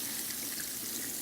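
Water runs steadily from a tap as it warms up at a hair-washing sink, a continuous close, bright splashing hiss with no voices.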